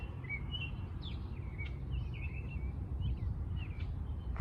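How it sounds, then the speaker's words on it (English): Small birds chirp and twitter in short, scattered calls at a distance, over a steady low rumble of outdoor background noise. "Birds are going nuts."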